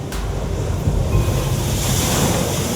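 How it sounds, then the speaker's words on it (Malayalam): Heavy sea swells surging onto a coastal road at Arattupuzha during a strong sea incursion, a loud continuous roar of surf mixed with gusty wind buffeting the microphone. "ആറാട്ടുപുഴയിൽ കടൽ കയറ്റം ശക്തമായതോടെ തീരദേശ റോഡിലേക്ക് തിരമാലകൾ അടിച്ചു കയറുകയാണ്."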